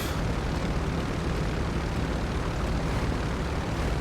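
An MV-22B Osprey tiltrotor in GTA 5 lifting off with a rolling takeoff, its engines and rotors a dense, loud, constant roar that fills the whole clip without pause and with no voices over it.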